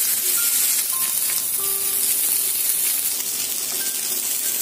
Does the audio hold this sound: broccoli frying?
yes